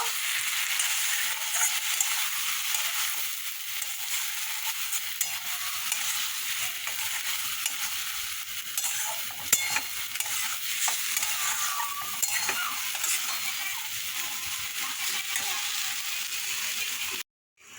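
Poppy seed paste stirred into fried onion and garlic in a pan: a steady, close scraping stir over continuous oily sizzle, fairly loud throughout with no voices.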